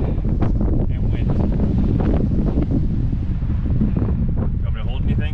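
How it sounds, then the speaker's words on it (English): Strong wind in Canyonlands National Park, Utah, buffets the microphone in loud, continuous low rumbling gusts, with a faint voice briefly audible near the end. "And wind."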